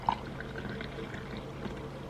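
Warm water poured into a glass with honey, lemon and cinnamon, a soft steady liquid pour lasting about two seconds, close and fairly quiet, with no talking.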